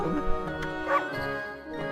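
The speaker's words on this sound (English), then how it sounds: "I know that bark anywhere" Dog barks and yips from the video game Okami, a few short barks and whimpering yelps over a game's musical background, fairly close and clear.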